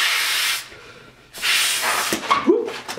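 Two long, thin 260 twisting balloons being inflated with a pump, giving two loud, close airy hisses, followed by rubbery squeaks as the balloons are handled.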